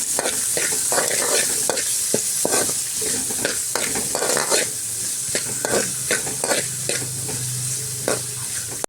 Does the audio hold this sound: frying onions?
yes